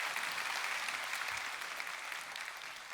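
An audience at a Seoul National University natural science public lecture gives a big round of applause, a dense, even wash of clapping sustained throughout at moderate distance.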